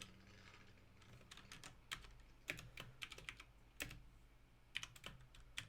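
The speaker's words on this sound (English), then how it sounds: "I do like how clicky this keyboard is." A clicky computer keyboard is typed on in quick irregular bursts of sharp, close clicks, with brief pauses between runs of keystrokes.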